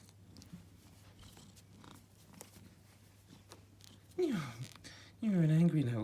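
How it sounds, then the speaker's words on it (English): An angry indoor kitten kept in by rain lets out two sharp, loud yowling growls near the end after quieter rustling, with a person speaking softly. "You're an angry little kitten today"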